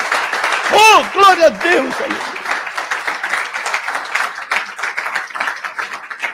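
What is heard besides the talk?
church congregation applauding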